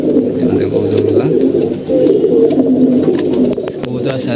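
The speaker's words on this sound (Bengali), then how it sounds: "কবুতর আছে, নামতেছে, উঠতেছে," Pigeons coo steadily through the whole stretch in a sunny rooftop loft, several birds overlapping in a dense, continuous murmur at close range, with scattered wing flutters and other small bird sounds mixed in.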